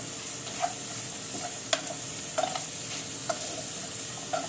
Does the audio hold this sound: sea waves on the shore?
no